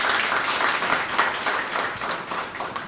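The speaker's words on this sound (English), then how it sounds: "Can we give the Chief Magistrate another round of applause," An audience at an e-litigation launch event gives the Chief Magistrate a round of applause, a dense, even wash of many hands clapping throughout, moderately loud and without pauses.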